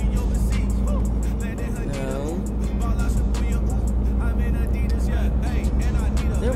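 A Greyhound Canada bus driving in American Truck Simulator on a route from Seattle, Washington toward the Canadian border, a steady low engine drone and road rumble under continuous talking.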